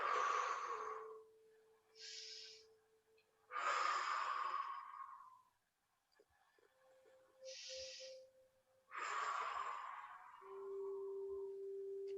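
Slow, gentle exhalations during a soft gym breathing exercise, three long airy breaths out separated by quieter breaths in, close and calm over a faint steady tone.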